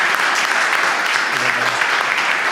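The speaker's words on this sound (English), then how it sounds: "Please, big round of applause for Toa Fraser." Audience applause for a playwright and film director at a charity launch event, a dense, steady wash of clapping from a crowd that carries on throughout, with some voices mixed in.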